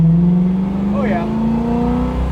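A 1970 Chevrolet Camaro engine hums steadily through its exhaust, rising slightly in pitch as it revs, loud and close from inside the car while a person speaks over it.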